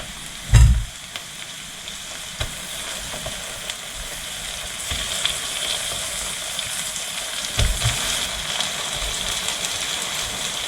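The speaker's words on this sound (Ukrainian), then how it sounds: "Час додавати печінку" Pieces of liver hit a hot pan with a thud, followed by a constant loud sizzle and spatter, broken by a few stirring knocks.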